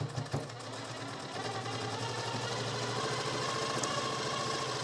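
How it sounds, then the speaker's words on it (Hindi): A sewing machine stitches the fitting seam of a princess-cut blouse with a steady, fast mechanical whirr. It runs continuously and fairly quietly after a brief start-up clatter. "यहाँ पर हम अभी फ़िलहाल एक ही सिलाई लगा रहे हैं फिटिंग वाली लाइन पे"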